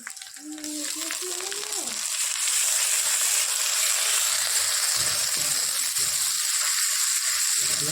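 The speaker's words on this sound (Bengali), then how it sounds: "মশলাটাকে একটু ভালো করে ভেজে নেব" Spice paste with garlic and ginger fries in a pan for a ghugni dish, giving off a loud, steady, close sizzle that holds without a break. A short tonal sound comes at the start, and no voice is heard.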